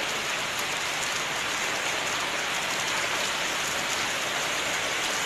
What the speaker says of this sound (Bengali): সকাল থেকে গুঁড়ি গুঁড়ি বৃষ্টি,